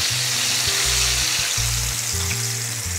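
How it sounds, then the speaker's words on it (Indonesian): Flour-coated pieces of chicken fry in hot oil, a dense, steady sizzling and crackling heard up close with no voices. "Lanjutkan menggoreng ayamnya tadi yang sudah dikasih tepung terigu."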